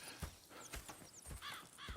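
Horses in the Red Dead Redemption 2 video game: a few hoof clip-clops and a brief whinny, fairly faint and close, with no talking.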